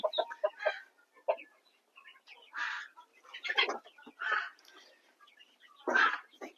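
Small quail birds at feeding time give a run of short chirps and clucky calls, some soft and some sharper, close by and scattered across the moment with quiet gaps between.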